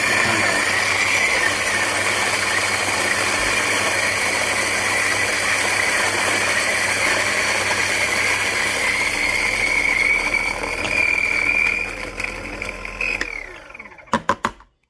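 Electric coffee grinder at a 6.5 coarse setting grinding decaf Colombian beans for AeroPress, a steady loud whirring grind for about thirteen seconds that then stops, followed by a few sharp clicks.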